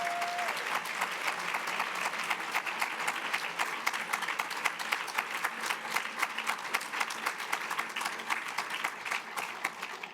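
A gathered audience at a school district ceremony applauds the top ten Teacher of the Year finalists, sustained clapping with audible individual claps, steady and moderately distant for about ten seconds.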